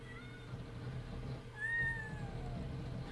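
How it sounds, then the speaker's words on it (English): Cats meow in the game 7 Days to Die, a couple of faint drawn-out cries over a low background hum. "Cats."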